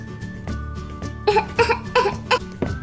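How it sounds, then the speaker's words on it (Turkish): Cartoon baby coughs in a run of short, sharp bursts, several coughs in quick succession, close and clear with little else around. "Öksürdüğün kadar yoksun bebe."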